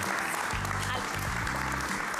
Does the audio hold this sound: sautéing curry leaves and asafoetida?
no